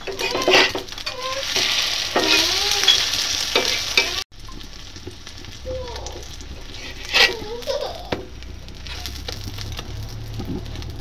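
Bread fries in a pan with green chili, tomato, onion and egg, giving a steady close sizzle with stirring scrapes and a brief break midway, while voices talk faintly in the background.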